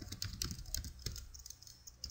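Quiet close keystrokes on a computer keyboard as code is typed, a quick irregular patter of clicks over about two seconds with no voice.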